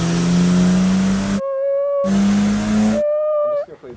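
A BMW M3 with a performance module roars on a dyno, two long, loud revs held at high RPM, each cut off abruptly and followed by a ringing whine as the engine falls back, then a final sputtering drop.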